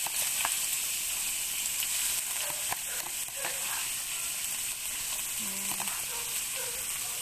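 Chicken liver and gizzard sautéing with chicken in a pan for chapsuey, a steady bright sizzle with occasional stirring scrapes and clinks, close and moderately loud, no talk.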